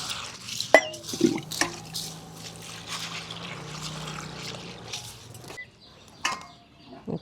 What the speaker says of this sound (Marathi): आता आपण डाळ स्वच्छ धुवून घ्यायची आपलं पाणी ठेवलेलंच आहे पातेल्यामध्ये डाळ धुवून घेऊ